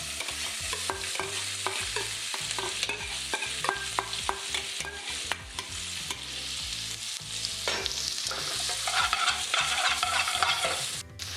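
Onions sizzle and fry in hot oil infused with green cardamom for a lamb madras, with steady crackling, stirring and scraping of a spoon in the pan, close up and fairly loud, no talking.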